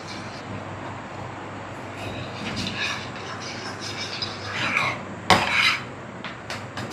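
Cake batter with milk being mixed in a pan, with light scraping and clinking of a utensil against metal, irregular and close, growing busier with a sharper knock near the end.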